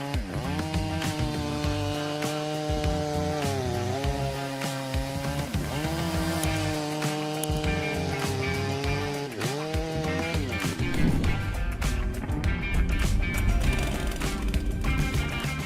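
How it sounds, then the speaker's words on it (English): A large Stihl chainsaw cuts and fells a tree outdoors, its loud, close engine rising and falling in pitch as it revs and bogs through the wood, running continuously without speech. "the Stihl MS661 boasts a low power to weight ratio and is the lightest chainsaw in the large capacity segment"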